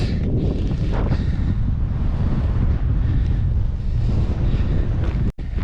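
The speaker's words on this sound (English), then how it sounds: "The wind is starting to pick up now." Strong wind gusting across a cold hilltop on Rennesøy in Norway, a loud, continuous roaring buffet against the microphone that barely lets up, no voices.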